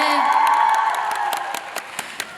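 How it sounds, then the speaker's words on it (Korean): Fans at a Kim Jae-hwan fan meeting cheer and whoop loudly at first, and the noise settles into scattered applause with a few distinct claps toward the end. "여러분 박수가 필요합니다"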